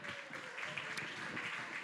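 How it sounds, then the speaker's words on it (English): A live audience applauds at a charity stage show, a soft, steady wash of clapping held at a fair distance for the whole stretch, with no voice over it. "a round of applause for my lovely assistant"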